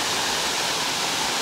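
A beautiful waterfall in Meemure roars as a steady, dense wash of falling water, constant and full without pause, with no voices over it.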